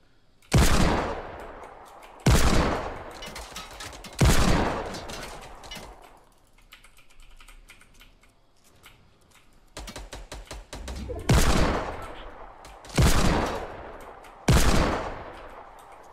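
Sniper rifle shots in Fortnite Battle Royale: several sharp, loud blasts spaced a second or two apart, each with a long fading tail, split by a quieter stretch of game ambience.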